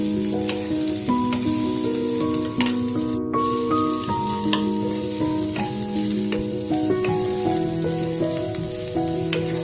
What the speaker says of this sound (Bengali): গাজর, অল্প বিনস আর পেঁয়াজটাকে ভালো করে ভেজে নেব